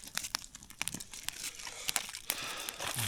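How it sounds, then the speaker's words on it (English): Tin foil crinkles and crunches as it is wrapped tightly around food for a dinner in Maine, a close run of sharp crackling rustles with no talk. "I've got a second thing of tin foil to wrap right around it"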